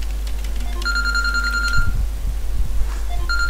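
A mobile phone ringtone chimes in a repeating electronic pattern of bright tones, moderately loud over a low steady hum, with no talking.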